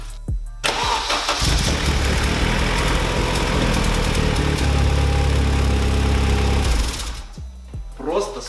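Turbocharged 2.0-litre engine in a modified Opel Combo van starts with a crank and catches, then runs loud and close with a rough, steady idle for several seconds before shutting off.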